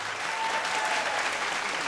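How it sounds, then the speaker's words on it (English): Dense audience applause at a televised vocal competition show, a continuous even wash of many hands clapping, moderately loud and fairly distant, with no voices standing out. "And of course, a round of applause for Peter Leong."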